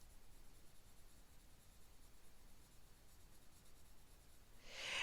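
Colored pencil lightly dusting lime peel green onto paper, a very faint, soft continuous scratching at close range that grows a little louder at the end.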